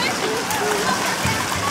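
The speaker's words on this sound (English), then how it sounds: "water will shoot up out of the hole in the middle" Splashing water bubbling up from the central hole of a splash play table at an outdoor recreation-center pool, a steady broadband rush under a voice.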